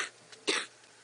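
A single hacking cough bursts out up close, with a short throaty rasp just before it and faint breath noise around it.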